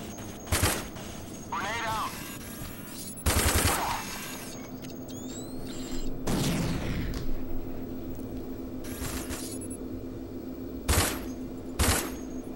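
Gunfire in the shooter video game Rage comes as short, sharp bursts and single shots spread over several seconds, with quieter stretches of game ambience and mechanical hum between them and a player's voice talking at times.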